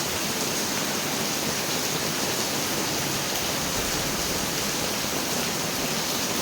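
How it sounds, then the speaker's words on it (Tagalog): Floodwater spilling over the banks of an overflowing canal makes a dense, steady broadband rush like a waterfall, loud and unbroken with no voices over it. "Dito umapaw ang kanal. Baha."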